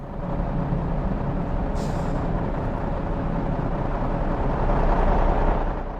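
A truck in the Hitman video game rolls in and brakes, a loud, continuous rumble with a sharp hiss of air brakes near the middle.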